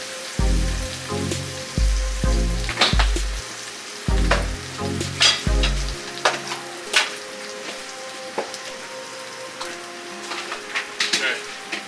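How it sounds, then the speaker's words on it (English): Birria tortillas dipped in consommé sizzle and fry in a hot pan, a continuous crackling hiss with sharper spits and pops, heard alongside kitchen clatter and a low musical beat. "Sizzling!"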